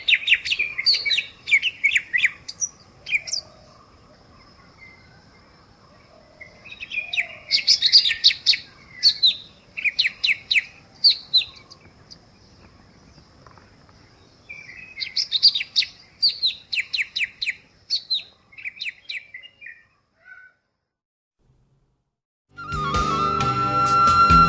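In breeding season a male bird calls from a treetop in bursts of sharp, high chirping phrases, clear and alone against a quiet background, broken by silent gaps.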